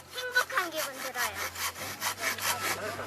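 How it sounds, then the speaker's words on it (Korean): Children hand-sawing wood on a playground-building activity, a steady rhythmic back-and-forth rasp of strokes, close and clear, repeating about a dozen times with faint voices in the background. "톱질 소리가 들려오는데요."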